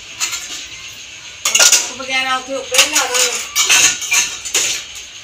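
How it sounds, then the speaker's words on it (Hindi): Dishes being washed by hand in a family kitchen, with cutlery and crockery clattering and clinking close by in repeated bursts while someone talks over the sounds. "हाँ जी बर्तन मैं धो लिया"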